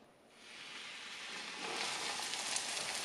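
A steady, broadband sizzle of breaded king oyster mushroom frying in hot oil, rising slightly after the start and holding loud and close with no voices.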